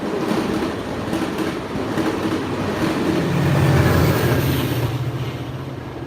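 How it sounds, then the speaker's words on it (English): An express train rushes past at about 50 miles an hour, a loud continuous rumble with rail clatter that swells toward the middle and then eases off slightly. "That was one of those sort of express trains I was talking about."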